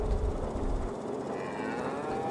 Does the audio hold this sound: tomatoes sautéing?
no